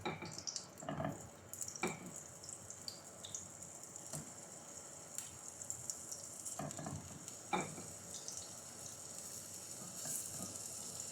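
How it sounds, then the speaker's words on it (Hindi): Chicken kebabs sizzle steadily in hot oil on a tawa over a medium-low flame, a continuous close frying hiss broken by a few louder spits and the clatter of stirring or turning, with no one speaking. "कबाबों को मीडियम टू लो फ्लेम पर 3 से 4 मिनट फ्राई करें।"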